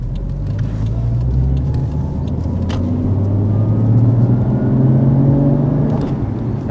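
A Toyota Chaser JZX100 Tourer V with a 1JZ-GTE engine and GP Sports muffler drives along, its low exhaust rumble and engine drone steady and loud from inside the car, swelling slightly as it accelerates.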